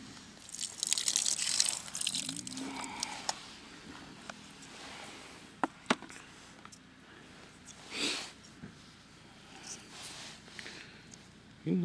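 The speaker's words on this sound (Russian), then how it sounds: "Сливаю воду лишнюю." Excess water is poured off fishing tackle during winter feeder fishing for crucian carp, giving quiet splashes and drips with a few sharp handling clicks, close and faint.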